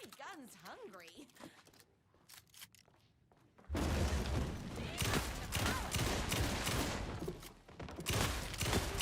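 Gunfire erupts in the Alan Wake 2 DLC, a dense, loud burst of rapid shots and crashing impacts that continues for several seconds, following a quieter stretch with a few sharp sounds.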